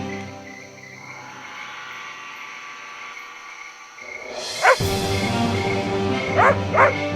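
Dog barking at night, a few sharp barks close by, heard in pairs late on, over a steady drone of insects and crickets.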